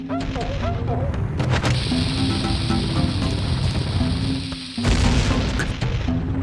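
A bomb blows up in The Legend of Zelda: Ocarina of Time, a loud, heavy boom set against continuous game music and effects, with a short drop before the blast lands.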